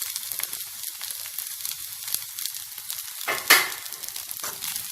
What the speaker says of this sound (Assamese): ৰাইচখিনি মই ভাজি আছোঁ